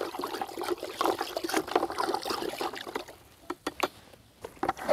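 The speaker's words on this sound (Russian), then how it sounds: "И небольшой струечкой вливаем и все перемешиваем." Copper sulfate solution poured in a thin stream into a bucket of water for spring tree spraying, making a close, bubbling trickle that fades slightly near the end, with a few sharper splashes.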